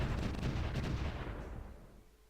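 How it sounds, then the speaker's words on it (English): Heavy artillery bombardment in a wartime strategy video game, a loud booming blast with a dense low rumble that rolls on and slowly fades away, no voices over it. "we have been bombarded over here"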